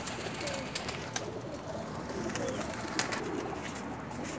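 Lakha pigeons coo softly at a breeder's home loft in Lahore, low murmuring calls repeating under faint background bustle and a few sharp clicks.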